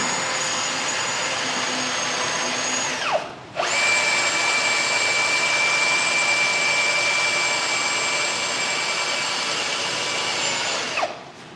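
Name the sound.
power drill drilling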